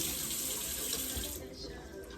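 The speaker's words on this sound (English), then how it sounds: "We're just gonna rinse our spoon off," A spoon rinsed under a running kitchen tap, a steady close rush of water splashing into a sink, easing slightly toward the end.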